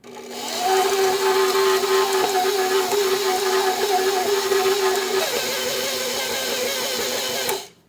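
An electric stand mixer with a paddle beats cookie dough in a home kitchen: a steady, loud motor whir with a slight rhythmic thump, running continuously for about seven seconds before stopping.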